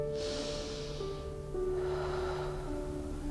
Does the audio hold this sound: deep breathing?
yes